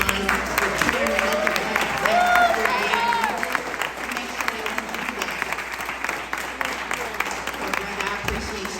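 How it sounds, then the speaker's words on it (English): An audience claps in a continuous, moderately loud patter of many hands, with faint background voices mixed in throughout. "So I want to take the time to just give him a round of applause"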